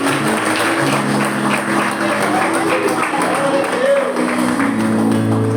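Continuous applause from a church congregation praising God, dense and steady, with voices mingling underneath.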